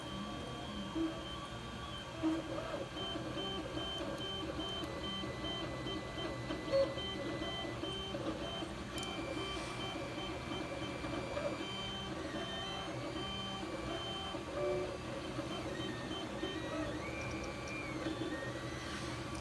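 A Creality CR-10 3D printer homes and begins a print, giving faint, steady stepper-motor whirring with soft tonal whines and occasional small mechanical shifts under a low background hum.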